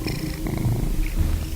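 A pet cat named Wiley purrs close up in a steady, low, rumbling rhythm of continuous breaths.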